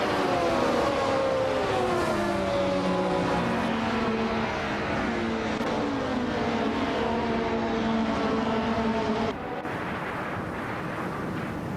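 Race cars in a video game roar past as a dense, continuous drone of engine whine with shifting pitches that rise and fall, loud and close throughout, dropping slightly near the end.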